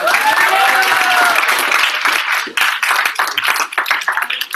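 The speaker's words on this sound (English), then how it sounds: "can we give them a big round of applause?" An audience at a youth camp gives guest speakers a big round of applause, loud dense clapping that gradually breaks into more separate, uneven claps.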